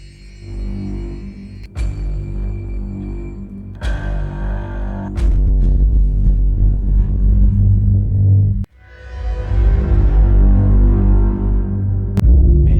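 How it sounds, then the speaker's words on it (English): A sample processed through convolution reverb: synthetic, droning textures swell through long reverberant washes, with a deep throbbing low end and sudden bright hits that ring out in an eerie, sci-fi way. "it's throwing that original sample into the convolution reverb, and because it's affected, it does all these really cool sci-fi things"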